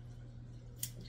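A single quick snip of scissors trims hair from a schnauzer's ear, a faint, close, crisp cut against a quiet room hum.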